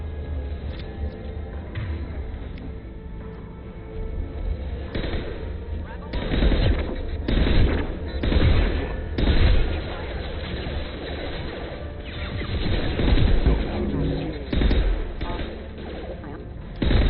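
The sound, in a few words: gunfire from the video game Mass Effect 2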